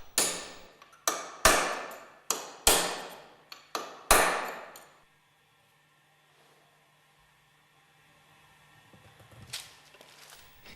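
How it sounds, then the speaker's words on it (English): A mandrel being hammered to drive an angular contact ball bearing out of a bearing bush on a GEA Westfalia OSD separator, six sharp ringing metallic strikes in a steady rhythm, then near silence with faint handling noise. "Drive the angular contact ball bearing out of the bearing bush with the aid of a mandrel."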